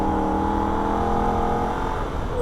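A Holden VF Ute at full throttle on the Nürburgring, its engine droning loud and steady with a sustained harmonic whine and road roar throughout, no talk over it.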